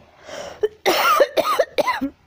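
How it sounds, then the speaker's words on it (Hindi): A series of harsh coughs, three or four bursts in quick succession after a faint throat sound, close and fairly loud with no talking. "खांसता है"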